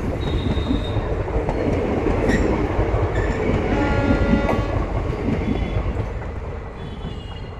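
Train 05336, the Kasganj to Kashipur special, rolls past close by with a loud continuous rumble, rhythmic wheel clatter and high squealing wheel tones.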